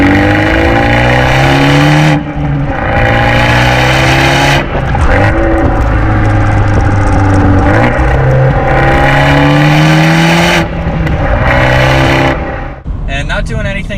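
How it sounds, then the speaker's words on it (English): A 2020 Fiat 124 Spider Abarth revs up loudly through the gears, its engine note climbing in repeated sweeps with brief breaks at each shift and sharp exhaust pops crackling near the end, close and without talk. "we got a pop in that exhaust"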